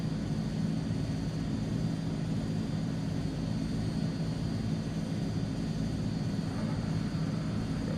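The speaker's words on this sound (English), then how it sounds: "Let's go ahead and taxi out" An airliner taxiing out in Microsoft Flight Simulator 2020, its engines giving a steady, continuous rumbling drone with a faint high whine, holding even and unbroken throughout.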